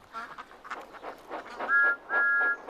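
Thomas the Tank Engine's steam whistle sounds twice in sustained blasts near the end, following a stretch of soft breathy puffing, with no voices.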